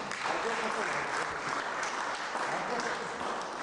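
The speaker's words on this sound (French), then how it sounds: "que je vous demande d'applaudir sur le plateau." Audience applause for a performer introduced on stage at a live Papa Wemba show in Milan, a steady dense clapping that fills the whole moment at even loudness.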